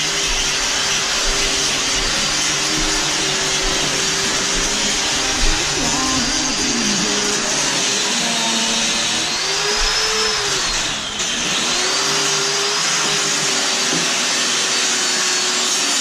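Power grinder cutting off old worn parts on a New Idea sickle mower during repair work, a loud, continuous close-up whine with shifting pitch as the disc bites into metal.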